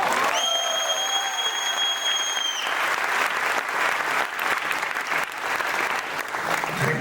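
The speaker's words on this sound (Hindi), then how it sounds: "थैंक यू सो मच तालियों के लिए" Audience applause after a motivational speech in Mumbai, dense sustained clapping from a large crowd throughout, with a brief electronic tone sounding at the start.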